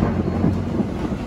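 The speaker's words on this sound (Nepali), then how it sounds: "एकदम मौसम खराब पानी पर्नु लाग्यो" Thunder rumbles low and continuous as rain begins falling, a dense steady roar heard alone with no voices.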